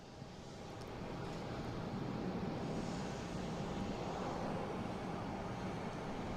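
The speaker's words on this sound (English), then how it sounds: "So that Air Canada come in from Toronto, an A220, flight 772." An Air Canada Airbus A220 arriving from Toronto at Boston Logan International Airport makes a broad, steady jet roar that swells within the first second and holds constant, heard from a distance outdoors.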